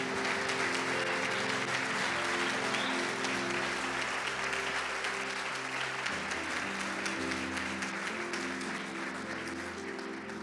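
A church congregation claps steadily and loudly throughout, a dense sustained applause with organ or keyboard chords held underneath.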